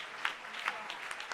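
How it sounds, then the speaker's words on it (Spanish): Congregation at a church convention service applauding, a brief, soft patch of crowd clapping with a few distinct louder claps over a diffuse background. "Dele ese aplauso al Señor"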